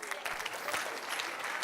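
A church congregation applauding during a Spanish-language worship service, sustained scattered clapping from a room full of people, moderately loud and even throughout.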